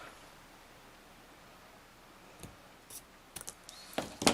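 Scissors snip off overhanging paper from a face mask card: a few soft rustles, then a quick run of sharp, close cutting clicks toward the end in an otherwise quiet room.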